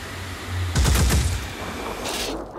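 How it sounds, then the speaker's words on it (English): Myrmidon creature attacking in the video game Phoenix Point, a loud burst of rapid rattling, crackling hits lasting about a second, followed by a fainter hissing swell. "Yep, this is the sound of a Myrmidon."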